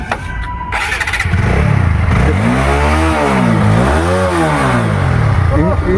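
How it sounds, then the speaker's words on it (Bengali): A Royal Enfield motorcycle at a used-bike dealer in Kanthi starts with a short crank, then settles into a loud, close thump and is revved up and down twice. "ইঞ্জিনটা জাস্ট সাউন্ডটা শোনা ইঞ্জিনের সাউন্ডটা তোমাদের শুনে দেখতেই পাচ্ছ"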